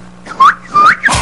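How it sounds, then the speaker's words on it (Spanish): A person whistles three short rising-and-falling notes in quick succession, loud and close, with brief pauses between them. "Si tú silbas, yo silbo, entonces silbé."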